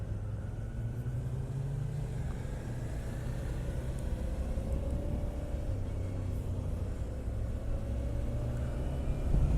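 A Suzuki V-Strom 650 motorcycle from 2018 being ridden, its engine a steady low droning rumble with smooth, even tone and gently shifting pitch, continuous and fairly subdued with no voices.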